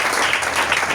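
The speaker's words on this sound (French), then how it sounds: "Ah, acclame Jésus encore." Church congregation applauding Jesus, a dense, steady wash of many hands clapping at once that fills the whole second with no pauses.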